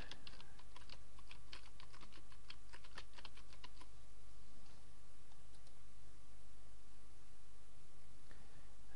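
A computer keyboard is typed on for a YouTube search, a quick run of close, crisp key clicks over the first four seconds, then only a steady low room hum.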